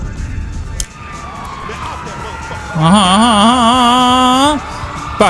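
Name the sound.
police siren in a video game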